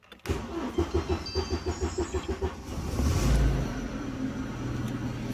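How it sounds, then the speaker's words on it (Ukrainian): An Opel Vectra B engine cranks with a rapid rhythmic starter chug, catches and fires up into a louder rev, then settles into a steady idle; no talking. "автомобіль у нас запустився"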